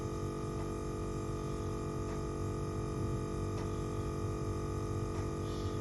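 A VIAIR portable air compressor runs steadily while inflating a tire, a loud continuous motor drone and hum with no pauses, close to the listener.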